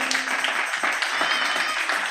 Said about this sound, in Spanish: ¿por qué no le da un fuerte aplauso a nuestro Dios?